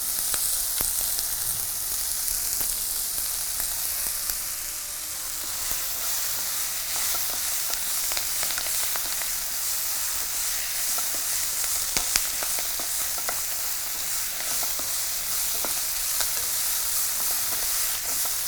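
Green chillies and betel leaves fry in a pan, making a dense, continuous sizzle with scattered sharp crackles and pops that stays loud and even throughout, with no talking.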